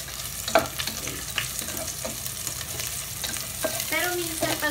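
Onion and garlic sizzle and crackle in hot oil, with a continuous close frying hiss and occasional stirring scrapes of a utensil in the pan, no speech.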